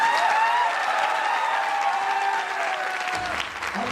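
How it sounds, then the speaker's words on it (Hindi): A crowd at a business growth seminar claps steadily, dense applause holding strong for several seconds over a faint background tone before tapering slightly near the end. "थोड़ी ताली अच्छी बजा दो।"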